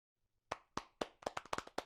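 A conference audience claps after a talk, about eight distinct, sharp handclaps in quick, uneven succession with no voices.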